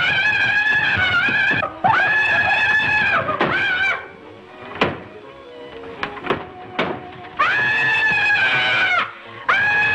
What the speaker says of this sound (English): Go ahead and scream.